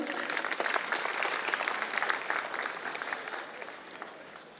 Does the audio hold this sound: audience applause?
yes